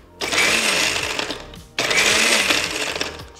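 A kitchen blender pulses ingredients for a lulo fruit drink in two short bursts, each starting with a loud whir that holds roughly one and a half seconds before stopping.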